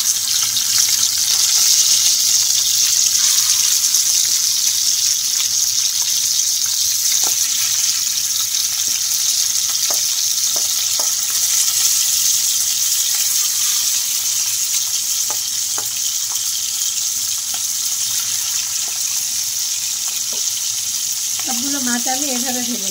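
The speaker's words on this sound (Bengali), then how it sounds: "তেলটা গরম হয়ে গেছে, এখন আমি এই মাছগুলো ভেজে নেব" Fish frying in hot oil, a steady loud hiss and crackle running throughout with scattered pops and faint utensil clinks, and a brief voice near the end.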